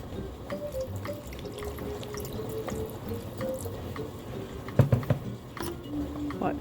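Water trickling and dripping into a small rock tumbler barrel holding borax and stage 1 grit, soft irregular patter with scattered clicks and a sharper clatter partway through, at moderate distance.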